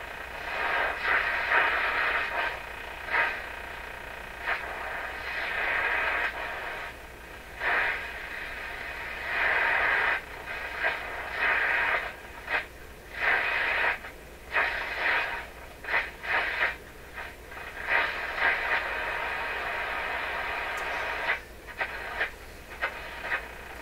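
Hissing, crackling AM radio static sweeps and warbles as a Canadian General Electric KL-96 receiver drifts across the band, with bursts of noise cutting in and out.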